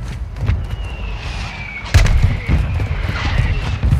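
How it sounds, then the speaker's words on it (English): Mortar strike explosions in Call of Duty Warzone boom and crack over ongoing game noise, with one sharp close blast midway among several fainter thumps and a faint whistling streak. "Mortar strike inbound now."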